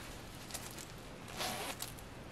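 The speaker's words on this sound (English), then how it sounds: "And it does have a zipper." A zipper on a handmade beaded purse is pulled in two short, faint quiet strokes, close by with no voices.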